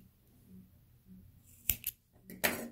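Scissors snip off excess cord while a two-colour knotted ring is made, a pair of crisp close cuts separated by a short pause, with faint handling noise before.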